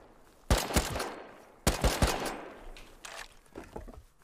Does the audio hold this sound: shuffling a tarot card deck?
no